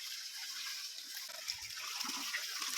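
Water flowing steadily near a cave, a continuous close hiss and splash like running from a pipe or channel, with faint low bumps and murmurs underneath.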